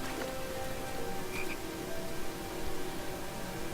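Frogs croak at a pond in the King's Quest video game, a faint, dense chorus of chirps over a hissing, rain-like ambience.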